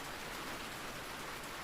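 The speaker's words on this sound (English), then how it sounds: "Outside, the rain admits a single drop heavier than the rest, then falls back into perfect rhythm." Steady rain falls outside, a soft even hiss of drops on surfaces that holds at an unbroken, moderate level throughout with no voices.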